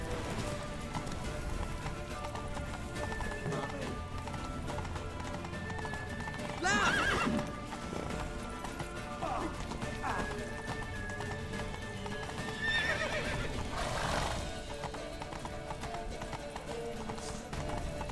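Horses gallop with rapid clip-clop hooves in The Witcher 3, joined by a couple of loud neighs and whinnies that rise above the steady running.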